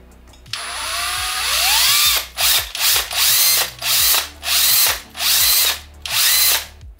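A Hilti SF 6-A22 cordless drill driver running on a repaired B22 battery: a loud, close motor whine in about six repeated bursts, each spinning up and cutting off, with brief pauses between.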